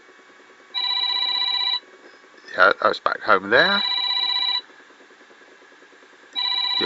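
A phone rings with a repeating electronic tone in steady bursts separated by pauses, while a person talks over it between rings.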